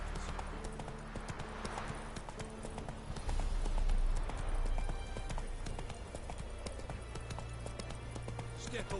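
Roach, the horse in The Witcher 3, clip-clops along in a steady, rhythmic gait. The hoofbeats sound close and stand out over a continuous bed of game ambience.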